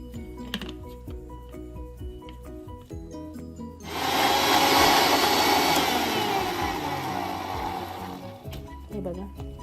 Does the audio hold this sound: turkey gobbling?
no